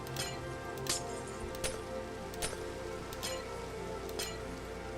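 Rain falls in the Minecraft video game, a steady soft patter with occasional sharp clinking taps scattered across it, quiet and even with no talk.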